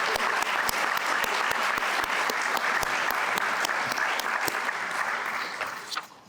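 Guests at a religious liberty gala and awards dinner give a full round of applause, many hands clapping steadily and fairly close before it thins and fades out at the end.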